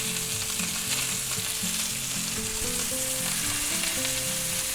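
Pork chops sizzling in a frying pan, a steady bright crackle and hiss that stays loud and continuous throughout with no voices.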